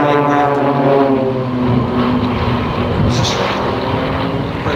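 Propeller-driven aircraft of the RNZAF Red Checkers aerobatic display team pass overhead at an air display, a loud, sustained engine drone that shifts in pitch as the formation sweeps by, with no voices.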